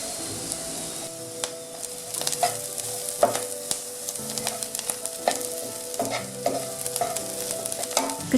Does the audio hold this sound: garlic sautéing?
yes